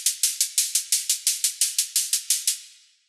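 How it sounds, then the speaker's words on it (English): A synthesized noise hi-hat from a drum and bass track plays alone, about fourteen crisp, evenly spaced bright hits with short decays over roughly two and a half seconds before fading out. "This is just your standard noise hi-hat, synthesized noise hi-hat kind of thing."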